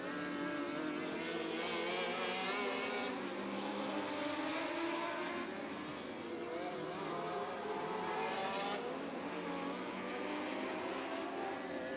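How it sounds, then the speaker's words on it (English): Race cars roar around an oval raceway at Southern Illinois Raceway during a night series event, a dense continuous engine wash with a couple of swelling passes, heard at a distance. "Norman and Meyer racing hard out front."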